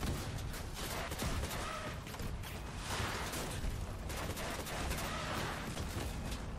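Weapons fire in the Crossout vehicle combat game as a dense, loud, continuous barrage of gunfire and mechanical clatter, sustained throughout without clear pauses.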